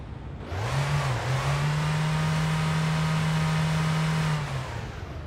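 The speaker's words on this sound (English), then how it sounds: "you don't want to rev an engine like that when it's cold" A cold car engine in My Winter Car, a 1999-style project car, revs hard and holds a high steady drone for several seconds before dropping back, loud and close with no voices.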